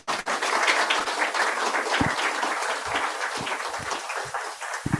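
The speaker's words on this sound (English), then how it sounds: "So please give her a big round of applause." An audience applauds a speaker at the close of an international seminar, giving a steady, dense patter of many hands that holds for several seconds with a few louder nearby claps standing out.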